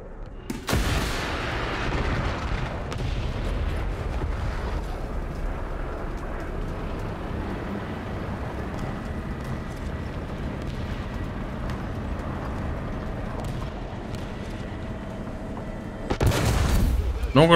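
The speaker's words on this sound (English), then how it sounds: "This AA gun is absolutely going nuts." An anti-aircraft gun in a tank video game fires in a dense, continuous stream of booming shots, loud and close, with heavier blasts at the start and end.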